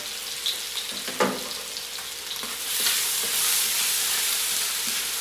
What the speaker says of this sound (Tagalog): Gisa naman natin ng bawang.